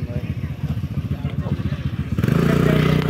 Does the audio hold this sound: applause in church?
no